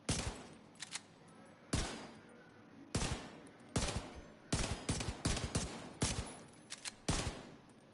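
Bursts of automatic gunfire in the video game The Division 2 on PS5, several sharp loud volleys in quick succession with short gaps, alone with no talk.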